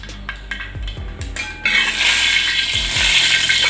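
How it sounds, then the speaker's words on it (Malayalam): Mustard seeds spluttering in hot oil in a pan, a few dull utensil knocks first, then a sudden loud, continuous crackling sizzle that carries on alone. "അപ്പോൾ നമ്മളുടെ കടുക് നന്നായിട്ട് പൊട്ടിക്കഴിഞ്ഞു"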